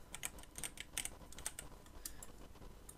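Rapid keystrokes as a folder name is typed on a computer keyboard, an irregular run of close, crisp clicks with brief pauses and no voices.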